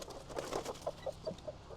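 A brooding hen sitting on a nest of eggs gives a run of soft, short clucks, about eight in quick succession, close by and fairly quiet.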